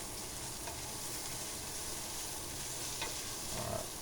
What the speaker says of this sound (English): So we're cooking out the paste before we add any liquid.